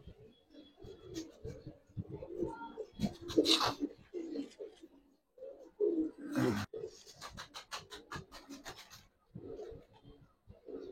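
A silver-coloured pigeon coos and rustles near at hand while it is handled and let go, with soft scratching and wing sounds between the calls.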